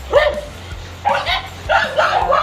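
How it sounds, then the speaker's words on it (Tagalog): Several dogs bark and yip near a house, with short bursts of barking and whimpering coming in clusters close by, while a voice speaks over them. "Puro ason dito. Napakaingay po."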